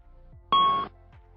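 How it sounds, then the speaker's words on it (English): An Airbus A320 ECAM single chime caution alert sounds once: a short, clear electronic ding in a quiet cockpit, steady for about a third of a second before cutting off. "When the fault occurs, the ECAM system alerts the crew orally and visually. You will hear a single chime and see the master caution lights."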